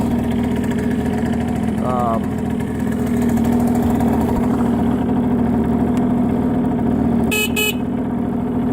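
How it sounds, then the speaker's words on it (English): A Hyosung Sense 50 scooter idles with a steady putter on a cold Norwegian winter day as its horn gives two short, sharp beeps close by, with a person talking over the engine. "Horn works also."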